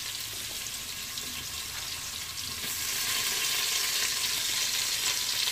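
Raw onions, green chillies and vegetables frying in a pan for vegetable biryani, a steady close sizzle that grows slightly louder and brighter partway through, with no talking.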